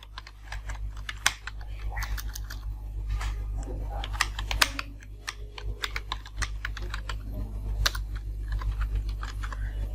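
Quick, irregular clicks of fingers typing on a computer keyboard, close and fairly quiet over a steady low hum, with occasional faint speech in the background.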